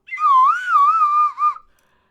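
A single sustained whistle, loud and close, wavers slightly in pitch for about a second and a half before ending with a short final chirp.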